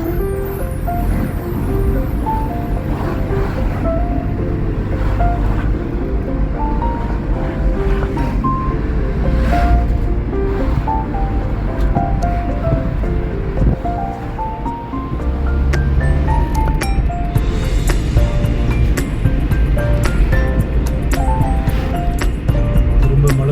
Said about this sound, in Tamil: சாரல் அடிக்குதுங்க.